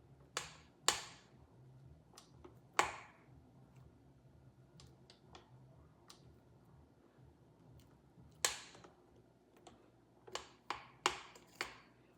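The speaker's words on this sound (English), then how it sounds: "So you always want to scrape the bowl." A spatula scrapes a KitchenAid mixer bowl while butter cookie dough is made, producing sharp, close taps and clicks in irregular bursts against a quiet background.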